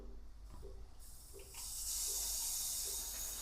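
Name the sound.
shower turned on, water running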